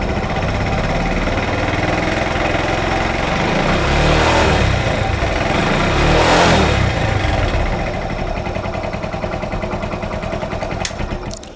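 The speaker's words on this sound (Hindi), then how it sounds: "तो गाइस मैं एक्सीलेटर देता हूँ।" Motorcycle engine held at a steady high rev with the throttle open, swelling a little louder twice before easing off slightly, loud and close with no talk.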